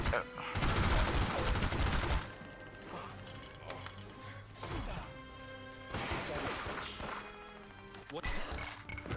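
Gunfire bursts in The Godfather: The Game, a loud volley at the start, then scattered shots and crashes over game music and chatter as the player tries to shoot a man in the foot during an interrogation.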